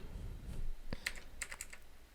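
A computer mouse clicks a few times while someone edits in Premiere Pro: sharp, light, close taps clustered near the end after a soft rustle.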